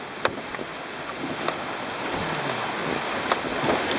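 Ocean surf washing onto a rocky shore in Baja California's Islas Coronados, a steady broad rushing wash with soft splashes and wind noise on the microphone, close and continuous, no talking.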